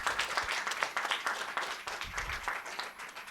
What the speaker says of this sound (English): And a louder applause.